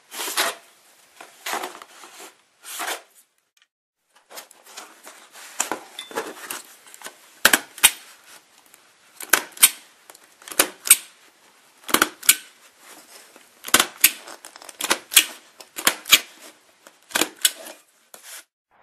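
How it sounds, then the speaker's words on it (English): A long-reach stapler driving staples into tar paper pots for pawpaw seedlings gives sharp, quiet snaps one after another, spaced unevenly in bursts with brief pauses between. "I went online and I got a long reach stapler, which quite easily reaches more than halfway the length of the pot."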